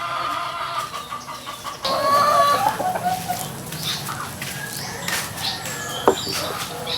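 Backyard chickens cluck and squawk nearby, a burst of louder calls followed by continued chatter from the flock.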